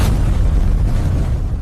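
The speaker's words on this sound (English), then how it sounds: "the cloud ignites, generating an ultra-high temperature explosion reaching thousands of degrees" A deep, rumbling blast from a thermobaric warhead igniting its aerosol cloud, a single loud low boom sustained for under two seconds with no voices.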